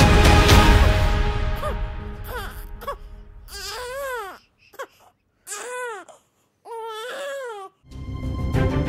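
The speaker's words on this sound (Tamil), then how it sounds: "அந்த குடிசையில ஒரு குழந்தையின் அழுகை குரல் கேட்டது" A newborn baby girl cries in a village hut, with several distinct wailing bursts separated by short pauses, fairly close and loud, with no talk over it.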